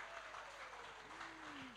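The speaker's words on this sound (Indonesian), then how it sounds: "Mari kita mau sama-sama menyambut dengan tepuk tangan." A church congregation at a GKY Kebun Jeruk general service claps to welcome visiting guests and family, a faint, even spread of applause heard at a distance, with a soft sustained tone from the sanctuary beneath it.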